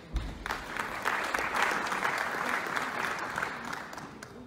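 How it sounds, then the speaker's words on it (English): A theatre audience at a town hall meeting claps in welcome as a speaker heads to the microphone, a continuous crowd applause that swells and then eases slightly, with faint voices underneath. "Please put your hands together for him as he comes."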